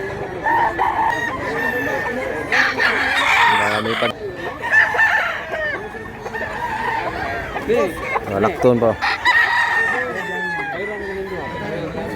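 A crowded flock of chickens and roosters keeps crowing and clucking at close range, with several long crows rising over the steady clucking, and someone speaks briefly now and then.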